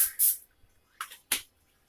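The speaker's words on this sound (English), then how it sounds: "I added the cooking spray like I said, but it looks like we need a little more." Cooking spray hisses onto a pan in short bursts: one longer spray, then two quick brief puffs, close and fairly quiet with no talking.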